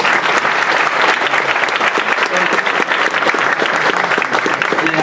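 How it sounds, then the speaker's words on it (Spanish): Sustained, dense applause from a seminar audience welcoming two speakers at a university event on political and judicial power, steady and loud throughout with a faint voice beneath. "recibámoslos con un fuerte aplauso."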